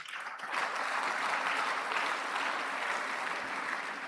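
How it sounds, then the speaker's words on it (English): Applause from a large audience at a business school executive programme graduation ceremony in Lagos, a continuous even wash of clapping that swells in after a brief start and holds steady, slightly distant and reverberant. "So another round of applause to all cohorts in this room."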